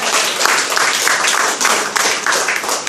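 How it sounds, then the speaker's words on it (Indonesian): A church congregation claps together in praise, a loud, close burst of fairly rhythmic clapping from many hands, pulsing unevenly for a few seconds with no talk. "Kita tepuk tangan untuk kemuliaan Tuhan"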